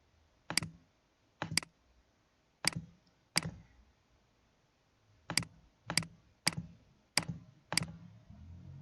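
Computer keys are typed in Maple 18 with sharp, separate clicks, about ten strikes in irregular groups with short pauses between them, quiet and close with no talking.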